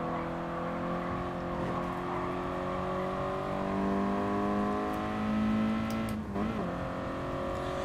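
A Toyota GT86 engine in Gran Turismo Sport hums steadily and close at moderate revs, its tone climbing gradually before a brief dip and shift near the end.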